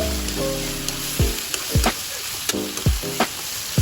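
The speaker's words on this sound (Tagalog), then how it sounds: "Haluin mabuti para mag-combine lahat ng ating mga ingredients." Carrots and chayote stirred in a frying pan, sizzling gently while the utensil scrapes and knocks against the pan several times in quick succession. Close, with no voices.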